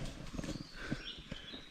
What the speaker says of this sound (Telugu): బైసన్ వస్తుంది అనుకున్నా, హార్స్ ఉంది.